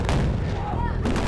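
A pyrotechnic explosion on the Transformers 2 film set, a loud, dense, roaring blast with crackling debris that fills the short stretch, close and booming, with a second burst near the end.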